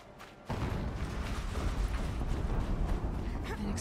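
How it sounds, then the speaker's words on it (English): An explosion in Horizon Zero Dawn erupts with an abrupt onset and then rumbles on as a dense, sustained roar of debris and noise, loud and continuous after a quiet start. "An explosion."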